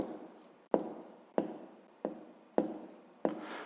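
A pen strikes paper in six crisp, evenly spaced taps and scratches, close and quiet, as numbers are jotted down during a fifth-grade maths exercise.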